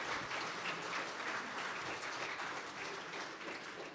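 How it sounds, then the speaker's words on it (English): A worship-service congregation gives a round of applause, a steady, fairly soft wash of many hands clapping that continues evenly for several seconds without voices. "let's give Jeannie a good round of applause there."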